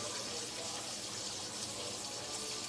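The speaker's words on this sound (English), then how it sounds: "I'm gonna add a little bit of water to this." Water pours steadily into a pan of short ribs, a faint continuous splashing gush heard up close, with no voices over it.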